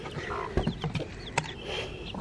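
A broody mother hen sheltering her seven chicks gives soft, low, close clucks in an uneven series of short sounds.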